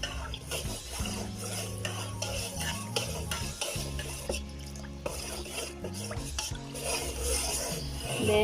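Evaporated and condensed milk being stirred in a pot for maja blanca, a spoon scraping and knocking against the metal in a busy, continuous rhythm, close and fairly loud throughout.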